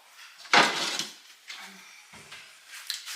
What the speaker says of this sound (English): Bring my next bowl up